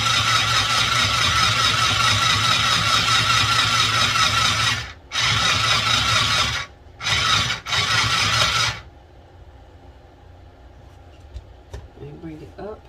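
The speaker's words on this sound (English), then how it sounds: "take it back down, start to sew again" A Singer Stitch Quick sewing machine stitches fabric in loud, close, whirring bursts broken by brief pauses, then stops and leaves faint handling noises afterward.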